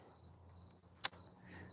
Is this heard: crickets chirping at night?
yes